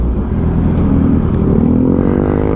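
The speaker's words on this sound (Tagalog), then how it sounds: "naririnig nyo ng bagong tunog ng ating muffler" A Honda CB650R fitted with a Drift Exhaust full exhaust system drones steadily at close range, its engine note rising slightly toward the end as if revving, with no talk over it.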